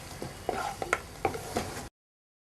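Ginger garlic paste and spices being stirred in a pan for lamb chops, with several distinct scraping and tapping strokes of a utensil over a faint sizzle, close and quiet, ending abruptly in silence.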